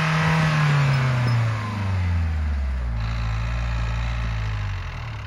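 A car engine on a snowy field cranks to life and revs, a low droning tone sliding downward and then holding steady, loud and close with no talking.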